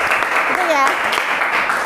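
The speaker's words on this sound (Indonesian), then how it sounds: "tepuk tangan untuk Benedikta" Classroom applause for a student named as top-ranked in a teaching session, a steady patter of clapping running throughout, with a voice speaking briefly over it in the middle.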